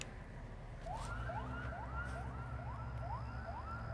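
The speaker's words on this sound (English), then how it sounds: "they've got a fucking siren horn" A car siren horn sweeps upward in quick repeated whoops, about seven rising wails in a row, over a low idling Chevy V8 engine.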